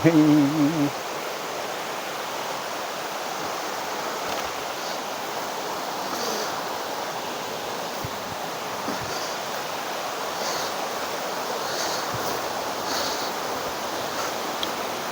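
The Ulakkappara waterfall, a steady broad roar of rushing water heard close, continuous and even, with a brief bit of other noise at the very start and no talking.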